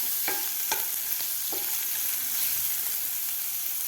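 Chopped onion is sautéed in a pan with oil for a Marathi dry black-eyed bean pod stir-fry, giving a steady sizzle. A few sharp scraping clicks of a spatula stirring come near the start.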